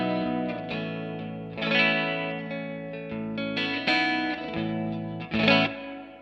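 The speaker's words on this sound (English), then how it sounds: "that's how I test reverb" Guitar notes played through a Fender Tre-Verb pedal set to plate reverb, each struck chord blooming into a smooth, lingering wash that fades between hits.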